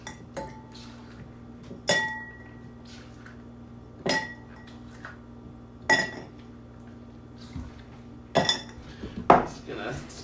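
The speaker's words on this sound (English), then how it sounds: "Grab some ice and we will stir this up." Ice cubes clink and rattle against a mixing glass as a Black Manhattan cocktail is stirred, several bright clattering bursts spaced a couple of seconds apart over a quiet steady hum.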